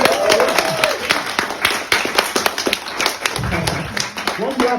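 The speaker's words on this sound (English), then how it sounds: "Can we all give a massive round of applause for that?" Audience at a stand-up comedy show claps and applauds, a dense run of overlapping hand claps lasting several seconds, with voices whooping and talking mixed in.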